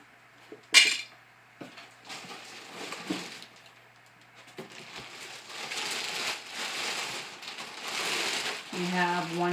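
Metal pots, lid and plastic parts of a steam juicer for apple cider clink and clatter as they are handled, with a sharp clank early on and scattered knocks and scrapes throughout.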